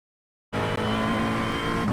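A race car engine held at full throttle on the Bathurst circuit in a racing video game, a loud, steady, continuous roar that cuts in abruptly and holds flat without breaks.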